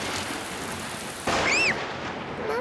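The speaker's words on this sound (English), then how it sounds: "Mummy, the thunderbugs are very loud." Cartoon thunderstorm with steady loud rain throughout, then a sudden heavy thunder crash partway through, followed by a high whistling, swooping tone over the continuing downpour.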